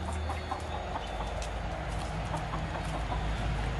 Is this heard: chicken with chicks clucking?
yes